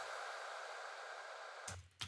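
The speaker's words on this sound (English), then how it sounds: "So I put some of the reverb tails from the synth that sounds a bit like this" Airy, sustained synth reverb tail from a pop vocal mix, a steady washed-out hiss and midrange haze that rings alone for over a second before cutting off into brief low thumps.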